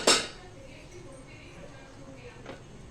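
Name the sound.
rice being scooped out of a cooking pot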